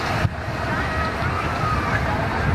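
A water feature imitating the waves of Normandy Beach near the Arc de Triomphe, heard as a steady surf-like rush and wash that is fairly loud, with a murmur of voices and a brief knock at the start.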